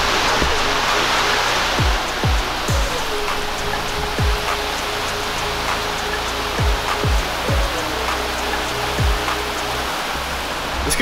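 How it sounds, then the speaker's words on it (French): Heavy rain pours down steadily in a dense, continuous hiss, with repeated low thumps and a faint hum underneath, near and loud. "Parce que là il pleut vraiment bien."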